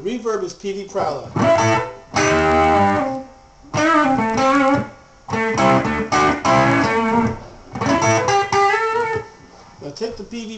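Overdriven electric guitar through a Peavey Prowler amplifier plays short phrases with sustained, ringing notes that trail off in the amp's reverb wash between bursts.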